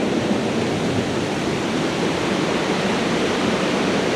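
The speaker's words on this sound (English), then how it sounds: "So the waterfall is going to be pretty raging too." A loud, constant roar of heavily falling water fills the whole clip, dense and unbroken like a raging waterfall close by, at Cascade Falls in Mill Valley during rain.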